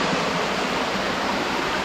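Water rushing over a hidden waterfall on Queensland's Sunshine Coast, a dense, loud, steady roar close by with no breaks and no voices.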